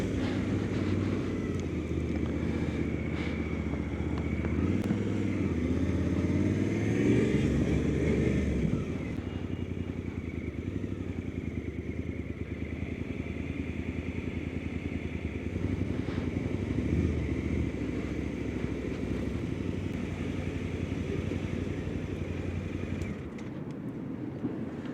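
A Suzuki V-Strom 800 RE motorcycle engine runs with a steady, droning hum that rises briefly in pitch early on and then settles into a constant, moderately loud tone without talking.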